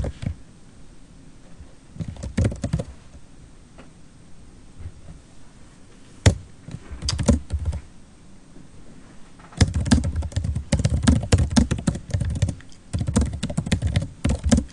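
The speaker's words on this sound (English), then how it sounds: "as this is a lot of typing" Typing on a computer keyboard while writing code, with quick bursts of close, crisp key clicks separated by quieter pauses, growing denser and louder toward the end.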